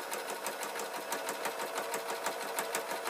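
A sewing machine runs steadily, stitching over a waistcoat seam with fast, even mechanical clicks and a continuous whirr, close up and alone.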